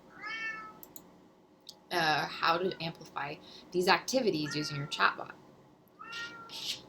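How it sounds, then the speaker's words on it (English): A pet cat meows close by in short harmonic cries at the start and end, while a person talks over the middle. "I don't know if you can hear my cat meowing."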